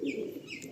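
A green-eyed pigeon gives a short, soft, low coo, close by and alone, lasting under a second.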